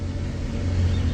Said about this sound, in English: Your truck is very loud.